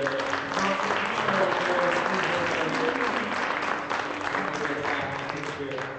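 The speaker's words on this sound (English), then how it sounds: "would you give them one more hand and applause for their" Sustained applause from a church congregation while a group photo is taken, a steady wash of clapping with voices mixed in throughout.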